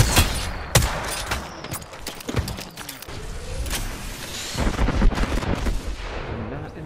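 Video game shooter firefight with a sniper in play: a steady scatter of sharp gunshots and bursts, some near and some distant, continuing through the whole stretch without talk.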